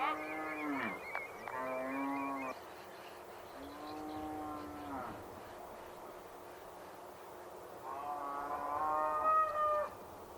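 Several cattle low in long, drawn-out moos as a herd is called to new pasture beside the Lower Elbe in Germany, four separate calls in close succession, fairly near and loud over quiet open-air background.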